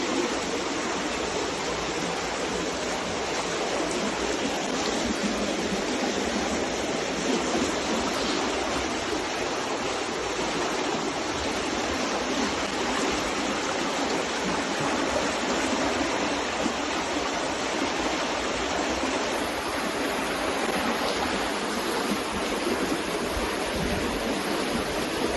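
Water flowing steadily at an old stone lavoir, a communal wash house, making a continuous broadband rush that stays even and loud throughout with no voices.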